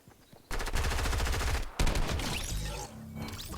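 Rapid automatic gunfire from a Fortnite match, loud sustained bursts with a brief pause partway through, then more shots fading into lighter game noise.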